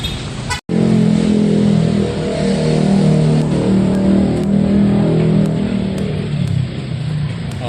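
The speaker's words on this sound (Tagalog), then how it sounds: "Oh, there, water truck." A water truck rolls past on a city street in Baguio City, Philippines, its steady engine drone close and loud, with traffic noise around it after a brief dropout at the start.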